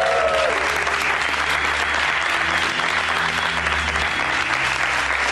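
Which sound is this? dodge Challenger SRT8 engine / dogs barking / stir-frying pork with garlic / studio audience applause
studio audience applause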